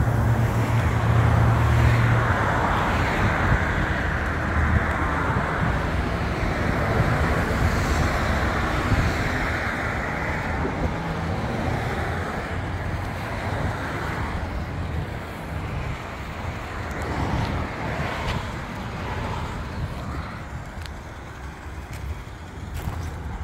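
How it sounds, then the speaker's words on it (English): Road traffic passes beside a 2005 Chaparral 254 Sunesta boat parked by the road, a steady wash of car and roadway noise with some wind, moderate and continuous, slowly fading over the span, with no speech. "By the road, so please forgive the noise."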